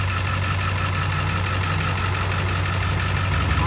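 A manual 2002 Ford F350 pickup engine runs at a steady idle, a continuous low rumble close by with no talk over it.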